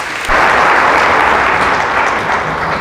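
After a brief quiet moment, a church congregation bursts into loud, sustained applause that continues evenly to the end.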